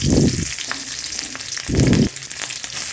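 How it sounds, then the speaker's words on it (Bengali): Vegetables frying in oil in a wok, a close steady hiss with two louder bursts of scraping and stirring, no talk over it. "এখানে সবজিগুলো ভাজা হয়ে গেছে সবজিগুলো ভাজা হয়ে গেছে"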